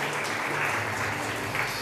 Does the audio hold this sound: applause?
yes